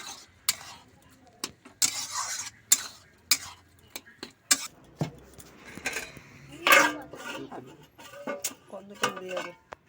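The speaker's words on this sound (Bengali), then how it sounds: "এই একটু তরকা করছি।" Metal spoon scraping and clinking in a pan as tadka with spices and ghee is stirred, in short irregular strokes, close by, with people talking over it at times.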